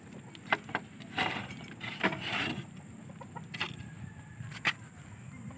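A chicken clucks in several short, sharp bursts spaced irregularly, moderately close over a quiet background hum.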